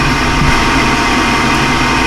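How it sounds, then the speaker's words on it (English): Power vent exhaust fan on a Hot Dawg 60,000 BTU propane heater, running as a loud, steady mechanical hum with a low rumbling drone that stays even throughout. "First, the power vent comes on for the exhaust."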